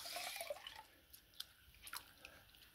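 A bag of worm castings is dunked in a container of water, giving faint, scattered drips and soft splashes that fade over a couple of seconds.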